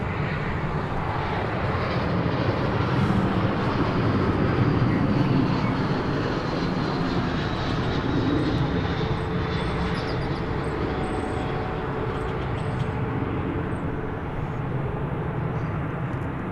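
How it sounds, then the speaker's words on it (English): An American Airlines passenger jet, Flight 1506 from Indianapolis, arrives at DFW Airport with a steady, loud roar of engines and broadband rush that holds for the whole stretch and swells slightly midway. "we dedicate this arrival to you. It's American Flight 1506 from the circular city of Indianapolis."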